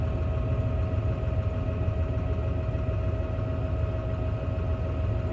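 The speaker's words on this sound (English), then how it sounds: "Gear change down out the field." A farm tractor's engine drones steadily at a constant, close and moderately loud level as it gears down heading out of the field, with a faint mechanical whine above the low rumble.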